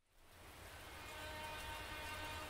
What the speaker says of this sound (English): The episode opens with the sound of rain.